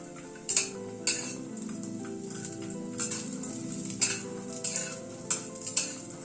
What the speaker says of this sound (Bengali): বড়িটাকে ভালো করে লাল করে ভেজে নেব আগে